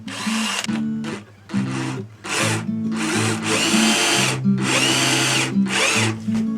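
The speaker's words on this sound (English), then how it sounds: "I'm going to go ahead and drill the holes for them" A power drill bores strap button holes into the mahogany body of a 2005 Recording King ROS 606 acoustic guitar, loud close whining bursts that start and stop several times with brief pauses between.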